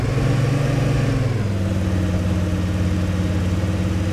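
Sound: vehicle engine revving in video game ArmA 3

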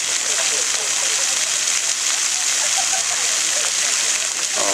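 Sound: water splashing from a fountain show at night

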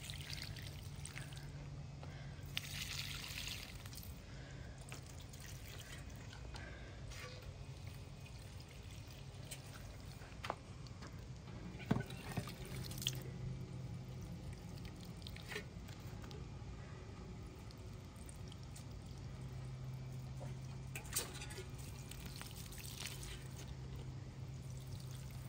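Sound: watering plants

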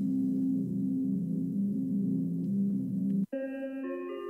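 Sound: phone call waiting tone in a horror escape video game

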